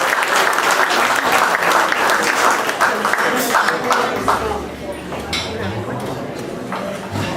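A live audience applauds a jazz house band at a memorial concert, dense clapping filling the room for several seconds before thinning out, with voices talking underneath.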